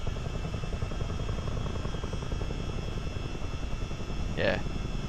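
A CH47D Chinook helicopter flying in Microsoft Flight Simulator gives a continuous rhythmic rotor chop and engine drone at steady loudness, with a brief higher blip near the end.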